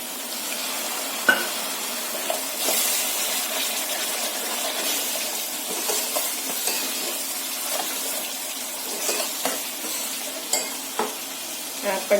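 Chicken with spinach and fenugreek sizzles steadily in a pan after water is added, a continuous hissing fry with occasional stirring scrapes and small pops, close and fairly loud throughout with no talking.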